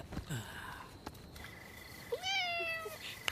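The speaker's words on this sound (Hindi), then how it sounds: "हाँ, दूसरी बिल्ली।" A cat lets out a drawn-out, wavering meow in a quiet indoor room, close and clear, preceded by a few soft bumps and faint earlier mewing.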